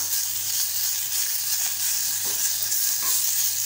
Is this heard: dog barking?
no